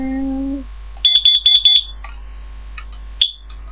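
Smoke alarm under test sounds a burst of four sharp, loud high-pitched beeps in quick succession, then a pause and one final single beep, with a brief tonal chime at the start.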